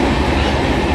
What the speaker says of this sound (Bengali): ট্রেনটা এতটাই স্পিডে চলছে